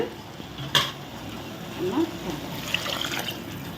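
Water is poured into a pot of sambar made with Mysore dal and stirred in, giving soft splashing and faint scraping under a low household background, with a few sharp clinks of utensil on pot.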